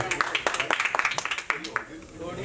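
Audience clapping at a Bollywood film press meet, a loose burst of scattered hand claps that builds and then trails off, mixed with voices talking over the room.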